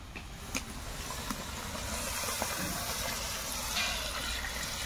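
Water poured into a cooking pot makes a steady close rushing splash that swells slightly and continues throughout, with faint clinks underneath.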